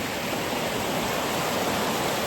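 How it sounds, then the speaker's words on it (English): A snow-fed mountain river rushes at a river crossing on a spring hike in a national forest. The roar is loud, steady and close, filling the whole stretch with no voices. "I've got yet another river crossing, and this one looks like it's going to get wet."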